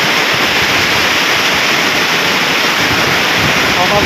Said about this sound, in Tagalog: Kakagulat ko ang ulan